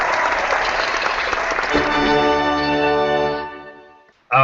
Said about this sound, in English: I was waiting for my special effects with the crowd cheering